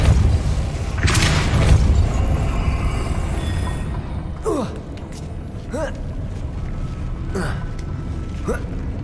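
The Depulso spell cast in Hogwarts Legacy, a deep booming whoosh that swells and then fades, followed by quieter magical chirps and whirs, with a voice speaking over the later part.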